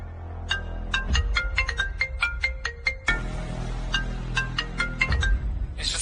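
A phone ringtone plays a repeating series of bright electronic beeps for about six seconds, steady and fairly loud, with no talking over it.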